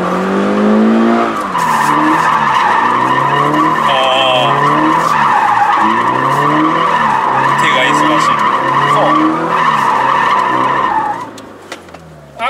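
A Toyota 86/BRZ drifts under deliberately rough throttle, its engine revving up and down in uneven surges while the tires screech loudly and continuously for about eleven seconds before the sound cuts off, heard up close.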